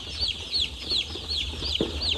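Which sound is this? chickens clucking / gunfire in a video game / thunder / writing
chickens clucking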